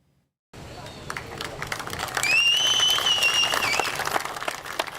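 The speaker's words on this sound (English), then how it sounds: "Officer James O'Donnell greeted with a round of applause Monday outside of Farmington PD headquarters" Officers and colleagues applaud outdoors outside a Connecticut police headquarters, a burst of clapping that starts abruptly and swells into sustained applause, with a few whistles and voices mixed in.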